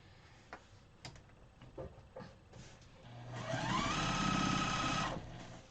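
A sewing machine stitching two quilt block pieces together: a few clicks and handling taps, then a steady whirring motor run for about two seconds that spins up and stops, close by, with no speech.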